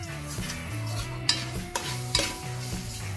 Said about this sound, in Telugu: ఉల్లిపాయలు ఫ్రై అయిన తర్వాత ఇప్పుడు అందులో అల్లం వెల్లుల్లి పేస్ట్ ని యాడ్ చేసుకోవాలి.